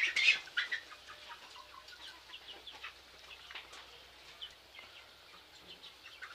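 Two-and-a-half-month-old hens cluck and chatter softly in short scattered bursts, fairly faint, with a few sharper calls near the start and no talking.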